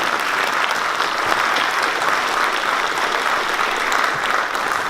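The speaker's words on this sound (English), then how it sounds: "How about a round of applause for our Junior ROTC and our Dominance" A high school auditorium audience gives a steady, dense round of applause for the Junior ROTC cadets, close and loud throughout.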